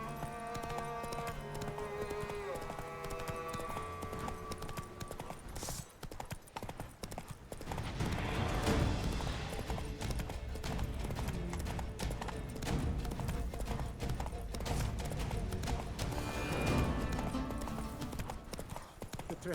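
The Witcher 3 horse Roach trots along with a steady, rhythmic clip-clop of hooves, close and clear, over game music and ambience that swell in the second half; no one speaks.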